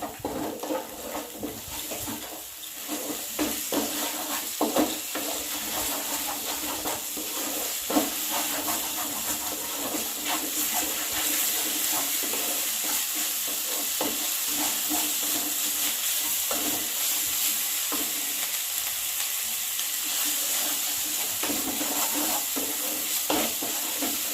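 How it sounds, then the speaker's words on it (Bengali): Spice masala with salt and turmeric sizzles in hot oil in a pan for sorshe potol, pointed gourd in mustard. A continuous loud frying hiss runs for over twenty seconds, broken by repeated scraping stirs. "মশলাটা আমার কষা প্রায় হয়ে এসেছে"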